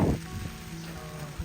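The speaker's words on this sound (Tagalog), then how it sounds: "Umuulan kasi." Rain falls steadily during a typhoon as a soft, faint, even hiss of drops, briefly heard with no voices over it.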